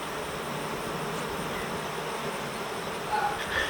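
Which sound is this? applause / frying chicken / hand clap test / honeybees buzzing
honeybees buzzing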